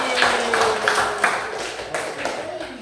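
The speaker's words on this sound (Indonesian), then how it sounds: "Tepuk tangan lagi." A group in a classroom session claps hands in a short, rhythmic round of applause lasting under three seconds, with faint voices beneath.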